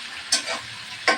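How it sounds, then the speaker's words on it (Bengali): Six or seven large shrimp fry in soybean oil with a constant close sizzle, broken by two quick scraping stirs of the pan, with no voices. "চিংড়ি মাছগুলো ভাজা নেব"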